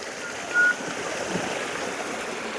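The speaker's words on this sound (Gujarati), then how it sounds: "પાણી જો ટાંકીમાંથી નીકળ્યું છે આમ જો." Water gushes and splashes steadily from an overflowing tank onto a flat roof, a continuous rushing flow with a brief brighter splash near the start, no talk over it.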